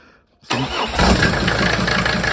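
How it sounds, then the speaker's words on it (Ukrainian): SsangYong OM662 2.9 turbo diesel engine, removed from the vehicle and run on a stand, cranks briefly and then fires up loud and close, settling into a rough, rapid clattering idle. "Запускаємо."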